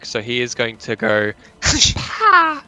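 A loud, sharp sneeze close by bursts out right after a man's speech during a tabletop role-playing game session, and a short voiced trailing sound follows it.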